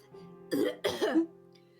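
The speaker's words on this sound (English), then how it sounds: "Puppy is now more like a cat coughing up a hairball." Two short, rough coughs, the kind of hacking from a pill stuck in the throat, the second trailing into a strained throat-clearing, close and alone against a quiet background hum.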